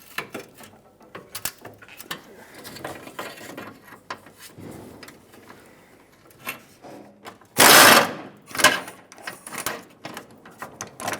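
Ratchet with a swivel working a fuel tank strap bolt on a 2013-2020 Nissan Pathfinder, with irregular bursts of clicking and mechanical rattles, one loud louder scrape near the end, close and without talk.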